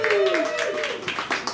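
An audience clapping in response to a comedian's question, a brief ragged burst of hand claps mixed with talking and laughter.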